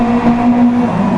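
A WRX Challenge rally car on intermediate tyres in the wet exits the pit lane with a steady, loud engine drone holding one pitch, close and continuous for a brief moment.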